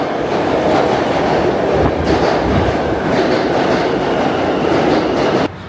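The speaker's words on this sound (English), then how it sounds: "we currently just got off the R train" An R subway train in New York roars along with a steady rumble and rattle, loud and close, cutting off abruptly near the end.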